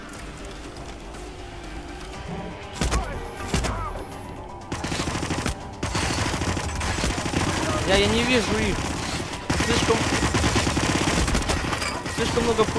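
Gunfire in the video game Hitman, a casino shootout: bursts of shots and fusillades come in repeated loud volleys, mixed with game noise, while someone talks and swears over them.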